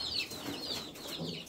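An ordinary young chick gives high, sweeping peeps and soft clucks in a steady run, close by, over a low background hiss.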